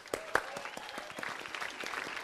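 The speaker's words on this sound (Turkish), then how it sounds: "Alkış." Scattered applause breaks out after a correct answer in a casual Bible quiz chat, a short uneven patter of a few people's claps, fairly faint, with a voice briefly audible.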